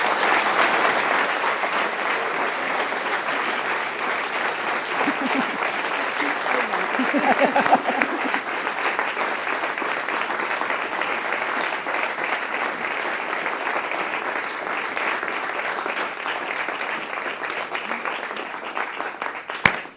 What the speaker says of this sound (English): the prolonged applause says it all, really